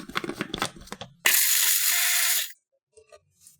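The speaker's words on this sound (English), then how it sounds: "Pop the lid on that." A lid pressed onto a plastic container of Thai-style coconut, peanut, chili and ginger marinade: a short bright crackling snap-on burst lasting about a second, following a stretch of indoor handling noise, then near silence with a few small clicks.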